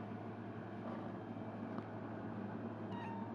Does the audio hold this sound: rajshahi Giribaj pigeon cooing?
no